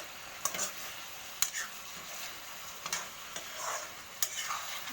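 Cauliflower curry cooking in a pan while being stirred, a soft steady sizzle under intermittent scrapes and light ticks of the spoon against the pan.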